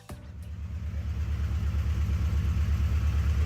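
A car engine idles steadily with a low, pulsing rumble, loud and close, after a brief clatter as it catches at the start.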